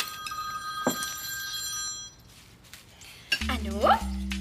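A telephone bell rings in a domestic setting, its bright tonal ring sounding near and clear at the start, then fading before other clinking and sliding sounds.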